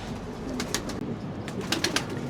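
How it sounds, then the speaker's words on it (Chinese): Home-bred pigeons coo on a rooftop loft, with soft low murmuring cooing under a few sharper higher bird calls in a brief, close recording. "这个都是我自己繁殖的鸽子。"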